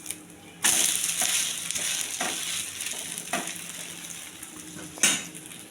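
Rice frying and sizzling in a pan as it is flipped, with a steady hiss broken by several sharp scrapes and clinks of a utensil against the metal, the loudest near the end.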